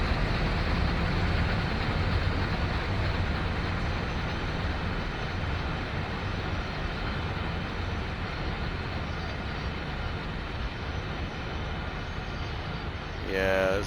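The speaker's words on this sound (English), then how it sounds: "I didn't figure a 40-car train would be this long" Long 40-car loaded coal train rolling in Train Sim World 5, a steady low rumble and wheel drone that holds evenly throughout, with a brief higher chiming tone entering at the very end.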